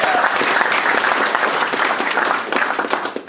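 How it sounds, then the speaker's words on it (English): An audience at an election debate bursts into lively applause, many hands clapping close and loud in a dense, crackling stream for a few seconds. "Let's have another round of applause for that."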